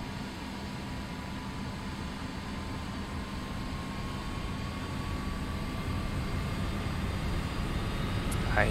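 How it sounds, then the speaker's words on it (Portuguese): An Embraer ERJ-135 jet engine running in the X-Plane flight simulator, a steady broadband roar with a faint rising whine that slowly gets louder and stays continuous throughout. "Motor 1 funcionando."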